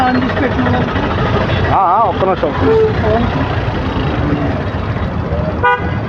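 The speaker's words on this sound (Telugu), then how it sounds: "ఎంత ట్రాఫిక్ ఉందో అమ్మా" Dense road traffic with engines droning throughout and several car horns tooting, one prominent honk sequence midway and another near the end, while people talk close by.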